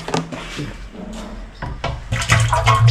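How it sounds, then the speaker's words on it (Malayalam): Ten litres of curd poured bit by bit into a shop-bought churning machine, giving uneven wet splashing and knocking that grows louder and fuller toward the end. "ഇപ്പൊ ഈ തൈരിഞ്ഞ് ഒഴിച്ചേക്കാം"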